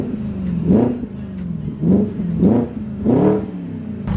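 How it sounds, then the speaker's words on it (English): A loud, throaty BMW 650i 4.8L V8 engine with a straight-pipe muffler delete revs hard four times in quick bursts, each rising roar dropping back to a rough idle between, with no muffling. "Now this is how a muffler delete sounds on a 650i."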